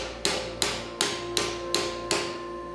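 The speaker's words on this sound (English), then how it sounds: "just being able to quickly forge a handle feels very empowering" A hammer forges a metal door latch handle, striking six times in an even, unhurried rhythm. Each blow rings sharply with a sustained metallic tone and is heard up close with no talking.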